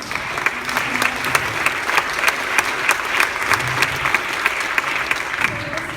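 Audience applause at a Portland mayoral candidate forum on housing, a sustained crowd of clapping hands with distinct sharp claps standing out, fairly close and loud, with faint voices murmuring underneath.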